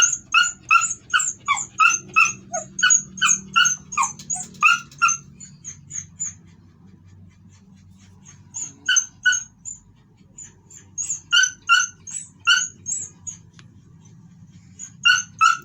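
A dog cries for its lost puppy, giving rapid bursts of high whimpering yelps in two long runs separated by a few seconds of quiet, loud and close.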